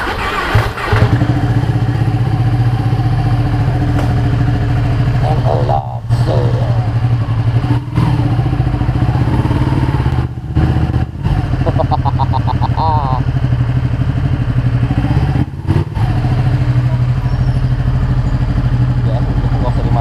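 A Ducati Panigale 1199S idles with a steady, deep, loud rumble at a fast-food drive-thru, with people talking over it and brief clatters along the way.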